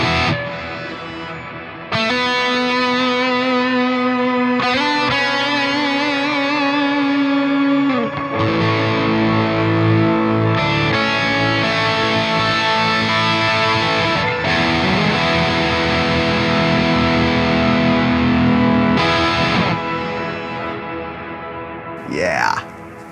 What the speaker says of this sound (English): What else do we have? The poly octaves.